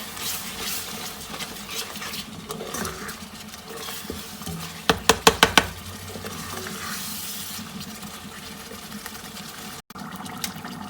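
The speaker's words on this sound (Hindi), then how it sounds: "अब हम लोग इसके अंदर ये बाकी सारे मसाला जार जो है वो इकट्ठे ऐड कर देंगे और इसे मज़ीद 5-7 मिनट के लिए भूनेंगे" Masala gravy for black chickpeas (kala chana) stirring and frying in a pan, a steady sizzle with soft scraping throughout and a brief cluster of sharp clinks midway.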